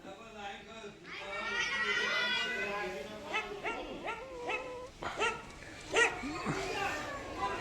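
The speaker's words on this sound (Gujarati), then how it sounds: "આ કૂતરો આયા." A dog barks and yelps in short bursts close by, mixed with people talking throughout.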